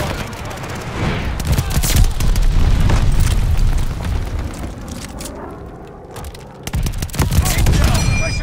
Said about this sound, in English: Enemy glide bombing.